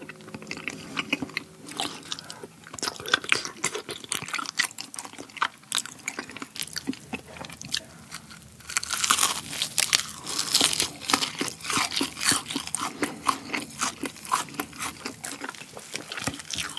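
Crunchy fried chicken and beer eaten close to the mic, with dense crisp crunches and chewing that run steadily throughout, growing louder in the second half, with no talk.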